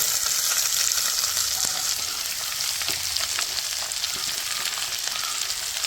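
Ivy gourd (kovakka) fries in a pan with chilli, chopped onion and curry leaves, giving a steady close sizzle and crackle with a few stirring scrapes.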